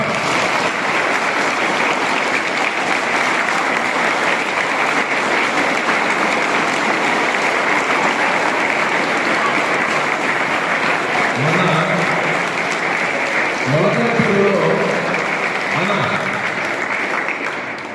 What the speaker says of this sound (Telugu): ఒక థర్టీ సెకండ్స్ రిథమ్ క్లాప్స్ తో నాన్ స్టాప్ గా చెప్పాలని సవినీయంగా కోరుకుంటున్నాం